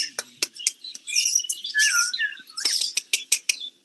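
Budgies in a breeding setup chirp close by, giving sharp, rapid tweets and warbling calls that run through the whole stretch with no talk over them.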